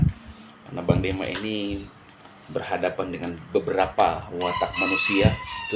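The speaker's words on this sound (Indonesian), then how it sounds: "Ada ayam berkotek" A chicken clucks and crows outdoors behind a man's steady speech; the bird calls are intermittent and partly masked by the talking throughout.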